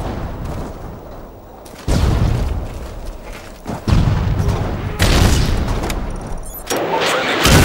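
Predator missile launching in Call of Duty MW3 on the Outpost map: a series of heavy booming whooshes and rumbling thrusts, loud and close, repeating in surges across several seconds.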